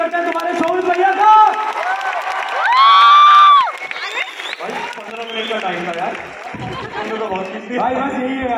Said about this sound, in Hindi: जोरदार खतरनाक धुमाधार तालियों के साथ इनवाइट करते हैं